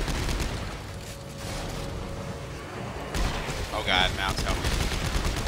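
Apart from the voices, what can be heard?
gunfire in the video game Dead Space 3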